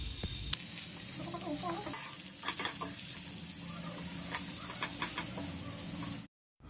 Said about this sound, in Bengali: উচ্ছেটা হালকা ভাজা হয়ে এলে ওর মধ্যে দিয়ে দেবে টুকরো করে কেটে রাখা পেঁপেগুলো